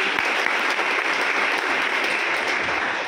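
Audience applause at a motivational speech at Chhatrapati Shivaji College in Satara: a dense, steady burst of many hands clapping together, loud and close, with no voices on top.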